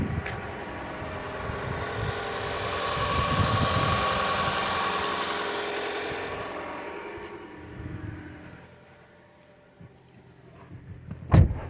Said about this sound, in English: you hear the engine come on